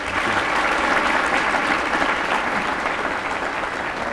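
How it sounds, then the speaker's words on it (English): An audience applauds after a talk by a former FBI director, a steady, dense burst of clapping at even volume throughout with no voices over it. "Let's give him a round of applause."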